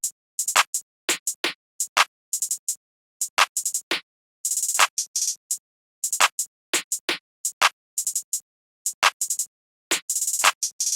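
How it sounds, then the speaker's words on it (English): Sparse programmed drum pattern of snare, hi-hat and clap for a dark trap beat, with sharp bright hits falling in a steady looping rhythm, close and dry, with short silent gaps between hits and no voices. "I just laid down this pretty simple snare pattern, which with the hi-hat and the clap sounds like this."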